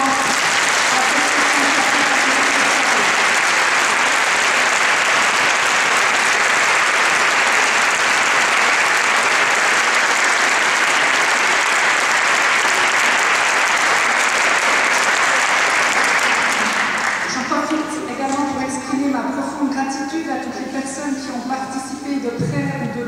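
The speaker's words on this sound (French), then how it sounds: "Je plaisir à ce que les musiciens soient sur scène et qu'on applaudisse aussi très fort." An audience claps loudly and densely for musicians at a gallery opening in La Chaux-de-Fonds, a sustained roar of applause that fades after about seventeen seconds, when other sounds and voices take over.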